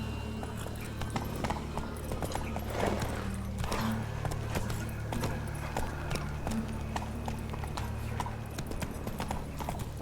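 A horse gallops in The Witcher 3 on PC, with rapid, steady clip-clop hoofbeats close by for the whole stretch over a faint background bed.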